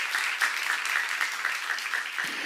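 A church congregation claps together in a brief, dense burst of applause that stays even and fairly loud, with no talking over it.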